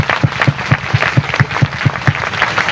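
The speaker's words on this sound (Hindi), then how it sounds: "आपके लिए जोरदार तालियां होनी चाहिए" A seminar audience in West Bengal claps loudly together in a quick, even rhythm, each clap landing in unison at close range over a brisk, steady beat.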